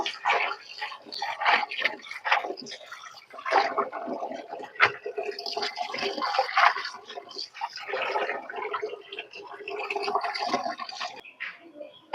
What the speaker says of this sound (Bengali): তো সব সবজিগুলো আমি এখন ধুয়ে নিচ্ছি।